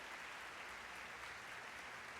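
An Academy of Music audience in Philadelphia applauds the stage entrance of an organist and a conductor at a 1974 live concert, a dense, even wash of clapping from a large hall crowd, steady and somewhat distant.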